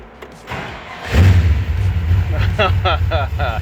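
Car engine cranking and catching, then settling into a loud, rumbling idle through an exhaust with cutouts, close by, while someone speaks over it.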